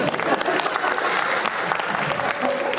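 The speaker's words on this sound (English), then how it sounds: "everybody clap" Audience at a retro gaming expo panel in Portland claps: steady, dense applause from a crowd in a hall, close and continuous throughout, with some voices mixed in.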